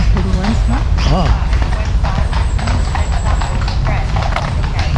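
Horses' hooves clip-clop steadily on a path in Hyde Park, London, the black horses passing close amid busy outdoor ambience while people chat nearby.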